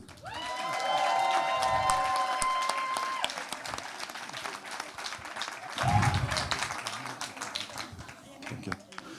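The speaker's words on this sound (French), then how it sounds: "Je vous demande d'applaudir Maurice" Audience at an evening campaign event claps and cheers loudly, dense applause swelling then thinning, with whistles or tones early on and voices mixed in.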